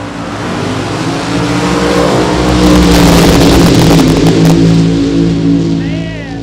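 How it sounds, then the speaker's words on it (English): Funny car drag racers with big block Chevy engines roar through a qualifying run at a summer nationals event at a dragway, a loud sustained engine blast that swells and fades, with an announcer talking over it. "a couple of big block Chevys coming at you right here, right now"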